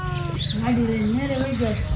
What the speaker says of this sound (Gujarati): મસ્ત મજાની મીંદડી આવી ગઈ છે